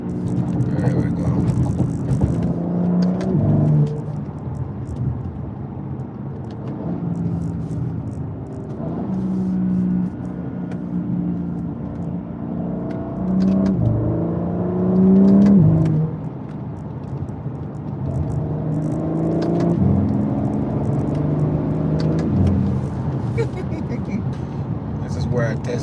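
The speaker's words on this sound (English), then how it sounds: "This is where I test this car sometimes." Car engine drones and rises in pitch as the car drives and accelerates along back roads, heard from inside the cabin with repeated revving surges, while people talk over it throughout.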